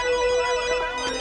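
A mobile phone rings with an incoming call, a bright electronic ringtone melody playing close and clear over a low room hum.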